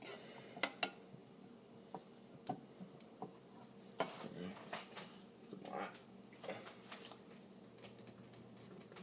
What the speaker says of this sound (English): You want to keep stirring